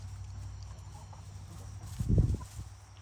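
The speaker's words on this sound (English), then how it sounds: "Happy chickens right now." Backyard chickens in a garden coop give a short, low clucking burst partway through, close by over a steady low background hum, with no speech.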